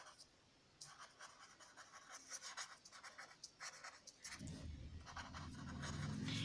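Marker or chalk scratching across a classroom board in steady strokes, fairly quiet, with a low rumble of background noise rising near the end; no talking.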